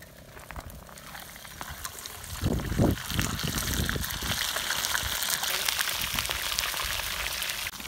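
Rainbow trout sizzle in oil over an open campfire outdoors: a steady, fairly quiet crackling hiss that swells when the fish are laid in, then keeps up a busy spattering texture.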